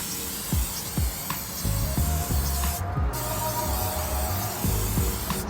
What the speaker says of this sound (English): Hairspray. This is gonna hold the glitter in place.